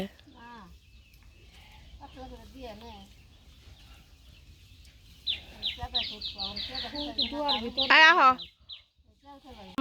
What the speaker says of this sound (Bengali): আব্বা বাজার থেকে এখন মুরগি নিয়ে আসলো